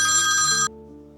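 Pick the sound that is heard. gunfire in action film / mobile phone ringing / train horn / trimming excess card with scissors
mobile phone ringing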